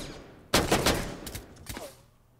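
A sudden burst of rapid gunfire in Rainbow Six Siege erupts, followed by scattered shots and a fading echo, loud and close with no talking.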